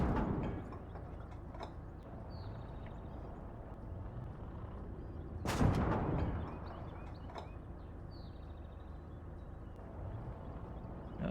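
A tank gun fires once in Gates of Hell: Ostfront, a single loud blast that cuts through low battlefield rumble and scattered clicks, then decays back into the steady background.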